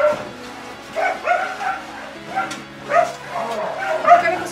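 Rescued abandoned dogs at a shelter give a series of short barks and yips, about five bursts spaced roughly a second apart, close and fairly loud, with some whimpering between them.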